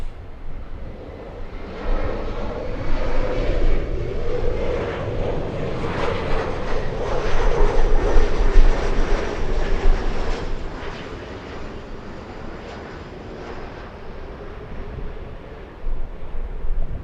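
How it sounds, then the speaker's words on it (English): Lufthansa Boeing 747 jet taking off at LAX, a broad engine roar that swells to a peak midway and then fades into distance, mixed with wind buffeting on the microphone. "the Lufthansa 747 takeoff"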